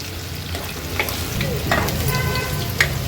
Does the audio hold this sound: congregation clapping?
no